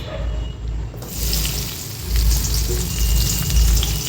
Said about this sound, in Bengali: এবার আমি এই বাঁচা যে তেলটা আছে এর মধ্যে আমি পেঁয়াজ কুচি দিয়ে দেবো